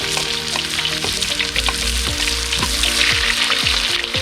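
Fenugreek and mustard seeds fry in hot oil, a loud, close, dense crackle and sizzle with sharp popping bursts throughout and a low hum underneath, no speech.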